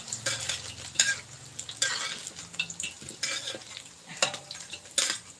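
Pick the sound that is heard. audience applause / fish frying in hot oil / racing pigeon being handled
fish frying in hot oil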